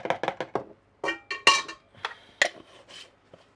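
Eggs are beaten in a bowl with a whisk for a Greek spanakopita: quick clinking taps of metal against the bowl, in short irregular bursts with brief pauses.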